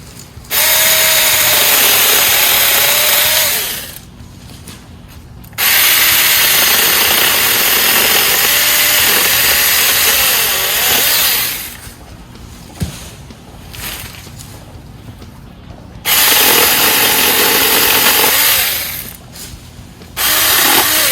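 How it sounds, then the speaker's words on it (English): A small battery-powered handheld chainsaw whines loudly in three separate bursts of a few seconds each, cutting branches, with short quiet pauses between them. "we'll show you again how easy this is to use as a handheld chainsaw"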